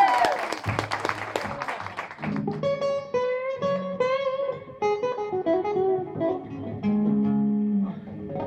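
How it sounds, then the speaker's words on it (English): A live audience applauds a stand-in singer at a Mash Up show, a brief burst of clapping that quickly yields to a woman singing over accompaniment for most of the stretch. "So give her a round of applause."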